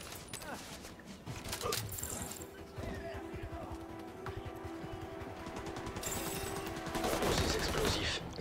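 A minigun fires in the shooter game Tom Clancy's The Division 2 at the Pentagon, a dense rattling burst of rapid shots that runs through the clip, with a voice talking over it.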